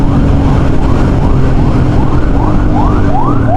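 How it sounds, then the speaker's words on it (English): A police car siren wails in repeated rising-and-falling sweeps, loud and steady over constant road and engine rumble, heard from a motorcycle in traffic. "a police car ahead suddenly activated its sirens"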